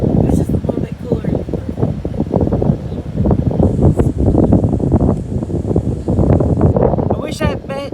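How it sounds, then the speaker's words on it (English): Strong wind gusts blow outdoors ahead of rain during a storm with lightning, buffeting the microphone as a continuous low rumble while people talk over it, ending with a brief higher whine. "Oh, it's windy now."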